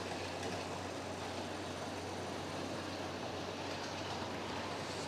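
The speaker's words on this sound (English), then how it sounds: "we got the 57 going around with some hoppers tonight" A model railway Class 57 locomotive hauls hopper wagons around the layout with a quiet, steady running rumble that holds evenly throughout, with no talking.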